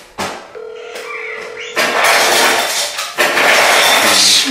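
A phone call being dialed, with a short sustained tone followed by loud, close bursts of telephone dialing tones, alone without talk.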